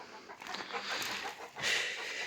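A chicken clucks and squawks nearby in short, uneven bursts with some rustling in the background.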